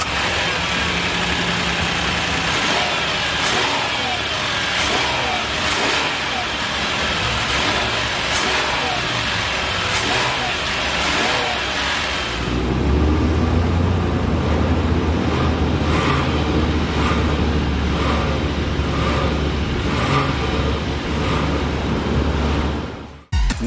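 A 3.8-liter GDI V6 in a 2023 Hyundai Palisade runs steadily at idle, a low continuous hum that grows heavier and closer partway through, with faint clicks and no talk.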